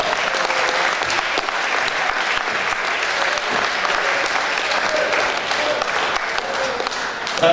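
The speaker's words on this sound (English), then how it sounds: "You're going to have to clap a little bit more because it's quite a long way." An audience at a football club's end-of-season awards evening claps as presenters make their way to the stage, a loud, sustained, dense round of applause lasting several seconds.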